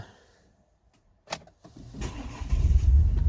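A Renault Mégane RS with clutch work underway cranks after a brief whir, the starter and a sharp catch giving way to a rough, growing idle rumble, heard close from the cabin.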